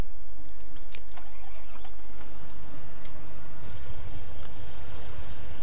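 In a farming simulator game, a tractor engine cranks and starts, the starter whirring and then settling into a loud, steady diesel idle that rises slightly in pitch partway through.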